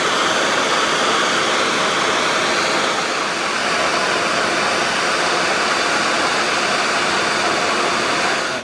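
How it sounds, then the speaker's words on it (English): A torch roars steadily, loud and close, as it heats solder onto a jumper cable wire for an adaptor on a Volvo ECR88 excavator, with one unbroken hiss throughout. "I'm going to heat this up and pour the solder in."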